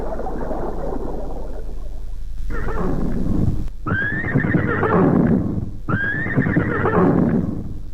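A horse in a Chhattisgarhi radio drama neighs loudly twice in a row, long ringing whinnies standing alone, with softer hoof clip-clop and rustling before them.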